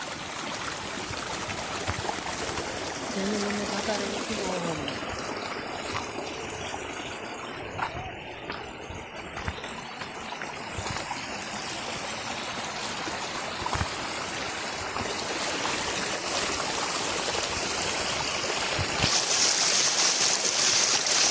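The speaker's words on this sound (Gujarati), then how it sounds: "જો અહીં અહીંથી તો બહુ એટલે બહુ પાણી આવે છે" A monsoon hill stream on Datar hill near Junagadh rushes steadily downhill, making a continuous broad roar of flowing water up close, with a brief voice heard faintly early on.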